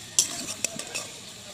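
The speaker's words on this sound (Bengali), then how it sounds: "আলুটা এদিকে ভাজা হতে থাক" Potatoes frying in a pan give off a soft sizzle, with a few sharp clinks and stirring scrapes over a short stretch, fairly close and moderately quiet.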